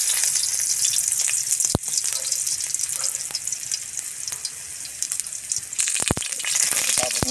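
Garlic sautéing in hot oil in a pan, with a steady bright sizzle and occasional sharp clicks of a utensil stirring, close and continuous.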